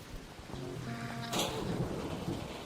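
A rumbling thunder crack from a lightning storm in a video game, a sudden loud burst midway that spreads into a broad rolling roar over steady rain-like hiss, with no voices.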